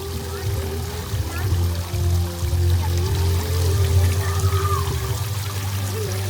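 A small decorative water fountain at the Thatluang night market in Laos trickles and splashes continuously under crowd murmur and talking, with a low hum from the market behind.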